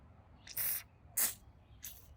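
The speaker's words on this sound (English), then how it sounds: "let me spray that again" B'laster penetrating lubricant sprays from an aerosol can onto car parts in three short, sharp hissing bursts separated by brief pauses, close to the microphone.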